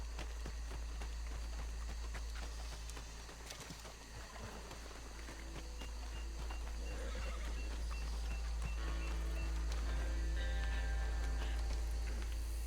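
Horse hooves clip-clop in Red Dead Redemption 2, blended into a dense game soundscape of steady low rumble and background mechanical noise, with faint whinnies.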